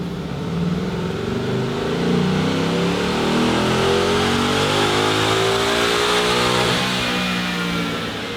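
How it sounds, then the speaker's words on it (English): A 2018-or-later Ford Mustang V8 revs hard on a dyno during a baseline horsepower and torque run, its loud, sustained engine note climbing steadily through the rev range. "let's baseline our test Mustang to get a starting point for horsepower and torque."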